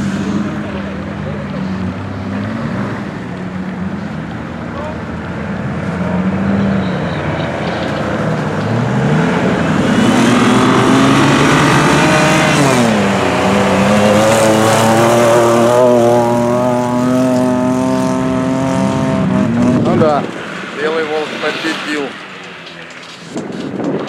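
A car at a UAZ club drag-racing event roars down the strip, its engine climbing through rising revs and gear changes, loud and close, then fading sharply as it passes, with people talking nearby.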